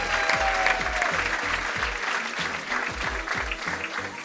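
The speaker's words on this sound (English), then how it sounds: "Give them a round of applause." A sold-out comedy club crowd in New York's West Village claps steadily and loudly throughout, dense and continuous applause with no one speaking over it.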